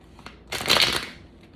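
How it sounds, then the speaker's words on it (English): Tarot cards being shuffled by hand: one brief, close riffle of crisp papery flutter lasting under a second, with light card taps just before and after. "I really thought that was gonna be a good shuffle after everything I just said."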